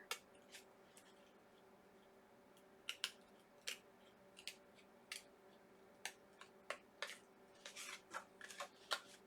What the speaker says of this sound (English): take your scissors, put them in the slit, and then just cut out